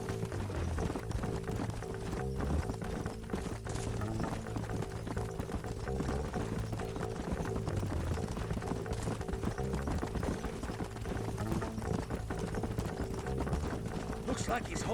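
Horse hooves clip-clop in a Western video game, a quiet, steady trotting rhythm that runs under a backing music score and dialogue from characters.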